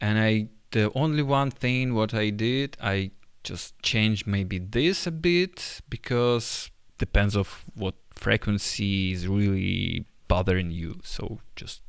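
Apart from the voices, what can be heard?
None of the usual background noises is heard.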